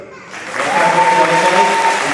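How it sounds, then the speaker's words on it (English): A graduation crowd bursts into loud, sustained applause that swells quickly and holds steady, dense clapping filling the hall with a faint voice mixed in. "Y'all clap it up."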